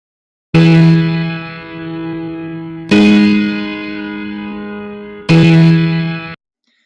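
Music transposed up from C to E, heard as three loud sustained tonal chords or notes with echo and reverb, each struck and then decaying before the next, no talk.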